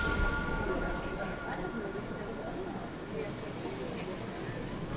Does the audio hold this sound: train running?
yes